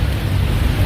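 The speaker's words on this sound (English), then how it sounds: "The rain is coming down." Heavy rain pouring down in Manchester during flooding, a dense, loud, continuous rumbling wash with a strong low roar and no voices, lasting only a moment.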